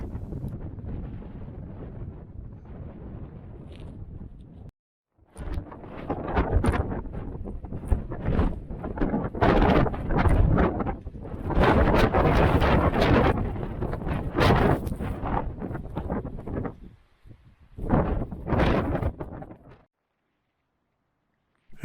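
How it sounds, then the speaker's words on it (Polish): Powerful winter mountain wind roars in heavy gusts against the microphone on a snowy slope at Przełęcz Karb pass, briefly dropping out several times before surging again, loud and turbulent throughout. "Wiatr momentami zdaje się spychać nas ze zbocza."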